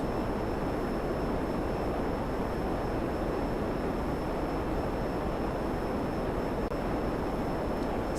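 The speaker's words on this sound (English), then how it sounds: "A little bit of a rough takeoff with the sandy beach" A Pyro aircraft taking off from a sandy beach in GTA Online, a steady loud engine roar with broad rushing noise throughout, unchanging and with no talk.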